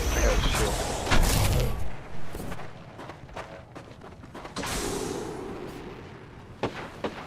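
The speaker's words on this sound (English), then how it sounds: "Some flunkers shooting at me." Enemy gunfire during an Apex Legends match, bursts of shots and booming impacts at moderate distance, interleaved with a player talking over the game audio.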